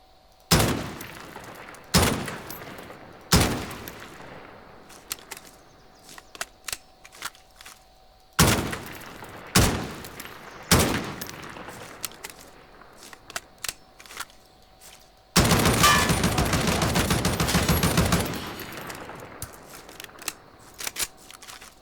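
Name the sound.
ODEN rifle gunfire in Call of Duty Warzone video game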